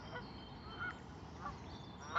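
Several geese honk in short bursts over a steady background hum on the Allegheny River near Sharpsburg, the calls fairly faint and spaced apart.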